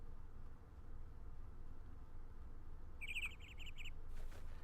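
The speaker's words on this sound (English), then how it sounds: "I hear birds." A brief burst of high, rapid bird chirps in the Minecraft modpack Project Ozone rises over a low steady rumble of ambient noise, fairly faint and brief.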